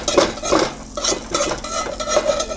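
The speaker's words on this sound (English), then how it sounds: "I got a spatula here just to help dislodge it from the bottom of this pan" A metal spatula scrapes across the bottom of a pan while dislodging a Cubano sandwich, giving a series of bright, rasping strokes in a steady back-and-forth rhythm, close and fairly loud with no talking.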